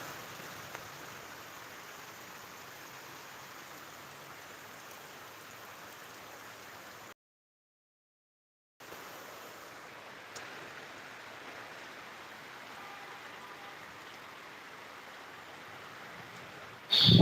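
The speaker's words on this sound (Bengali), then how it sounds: "আজকে আমাদের এই হেমাদপুরে প্রচন্ড পরিমাণ বৃষ্টি হচ্ছে" Heavy rain pours down in Hemayetpur as a steady, dense hiss. The hiss cuts out for a moment partway through, then returns, and a loud burst comes at the very end.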